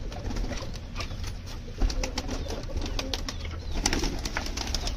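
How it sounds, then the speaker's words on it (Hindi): Pigeons let out of a rooftop coop coo continuously in a soft, low murmur, with faint wing flutters and outdoor background noise. No voices are heard. "दोस्तों अपने सारे कबूतर निकल रहे हैं"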